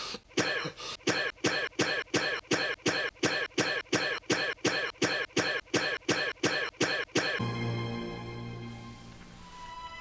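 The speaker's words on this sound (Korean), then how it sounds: "누가 기침 소리를 내었는가 말이야!" Harsh coughs ring out in a fast, even series of about seventeen loud bursts, then give way to a sustained tonal sound with no talking.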